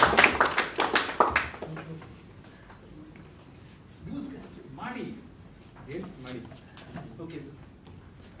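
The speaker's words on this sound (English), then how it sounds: "Clap for them." Audience clapping for a team at a communication session, a dense burst of many hands close by for about two seconds, then fading into quieter scattered taps with voices talking underneath.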